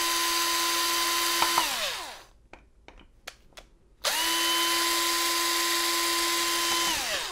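Cordless power drill backing screws out of a Schlage BE365 electronic deadbolt, with two close, steady whirring runs separated by a pause filled with a few light clicks and taps.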